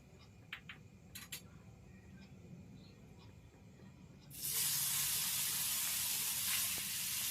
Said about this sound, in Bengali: বাকি মাছগুলো এভাবেই ভেজে নেব লাল করে